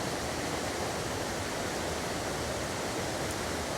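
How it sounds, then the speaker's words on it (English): Water gushes along a stream in a steady, unbroken rushing hiss, even and fairly close, with no voices or other sounds over it. "I am also going to check that water gushing in, because that's actually moving at a faster pace."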